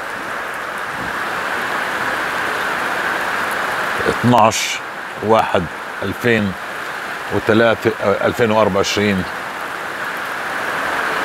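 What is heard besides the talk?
rain falling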